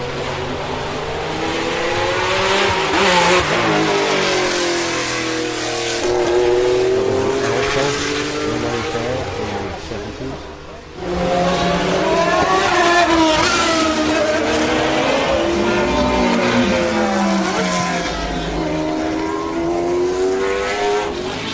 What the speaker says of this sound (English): That was a display of McLarens that went past, from the old Can-Am cars to the current MP4 12C Can-Am edition